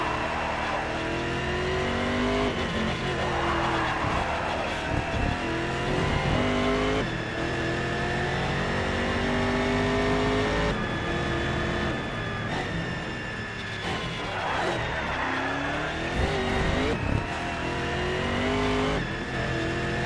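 A race car engine in the Race Driver Grid video game revs loud and close throughout, climbing and dropping in pitch with each throttle change and gear shift, over a continuous roar.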